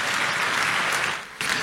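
A church congregation claps loudly in a steady, continuous burst of applause for Jesus during a Sunday sermon, with a brief swell near the end and no talk over it.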